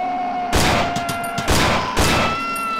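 Three loud, close gunshots from the horror video game Cry of Fear, spaced roughly half a second to a second apart over a steady low background hum, with no talk.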